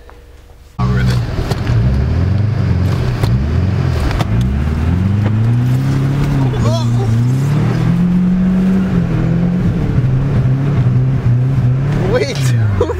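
A caged chassis car slides sideways in a drift with a loud, steady engine drone whose pitch rises and falls as the throttle is worked. Voices talk over it at times.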